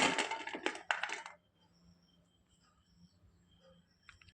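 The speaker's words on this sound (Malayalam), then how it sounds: "അത് ഒരു പാത്രത്തിലേക്ക് ഇട്ട് കൊടുക്കാം." Lemon pieces drop into a bowl in a quick burst of several close clattering knocks over the first second, then only faint room quiet with a couple of small taps.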